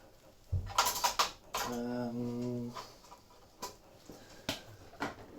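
Cutlery clattering as someone rummages for a big spoon, a burst of metallic clinks followed by scattered taps, with a voice speaking in the middle.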